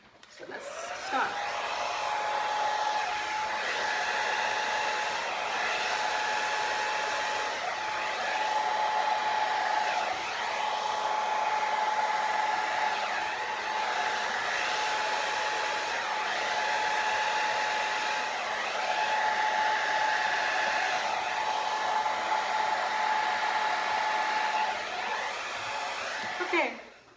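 A hair dryer blowing across wet acrylic paint in a Dutch pour, a steady close whining hum that runs continuously, its pitch shifting slightly as the airflow moves around.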